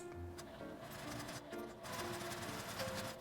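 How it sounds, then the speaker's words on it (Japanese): A sewing machine runs a steady edge stitch along the rim of a small round zippered pouch, its continuous mechanical whir holding fairly even and close for the whole stretch with no talking. "端ミシンをかけておきます。"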